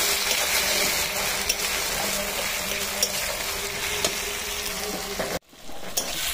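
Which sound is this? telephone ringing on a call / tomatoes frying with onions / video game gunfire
tomatoes frying with onions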